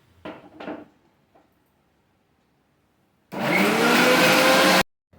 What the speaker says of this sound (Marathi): सर्व बिया काढून मिक्सरच्या भांड्यामध्ये मिरच्या घालून घ्यायच्या आणि त्यामध्ये सोललेला लसूण, बारीक कापलेले आले घालून सर्व चांगले बारीक वाटून घ्यायचे